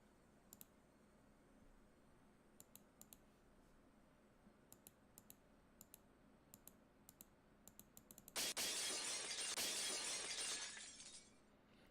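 Scattered faint clicks tick away in near quiet before window glass smashes loudly in Higurashi: When They Cry, a sharp bright shatter that rings on for a few seconds and then fades.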